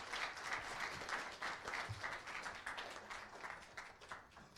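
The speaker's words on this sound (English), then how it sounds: "The round of applause for Dr. Peng." A small audience applauds after a talk at a business week accounting technology event, moderately faint rhythmic clapping that holds steady and gradually thins toward the end.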